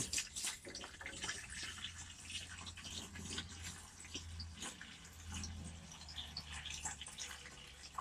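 Water splashes and trickles steadily into a watering can nearby in a greenhouse, with faint drips and gurgles throughout.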